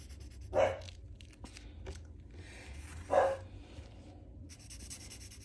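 Two loud barks from pet dogs indoors, spaced a few seconds apart against a quiet room with faint scratching sounds between them.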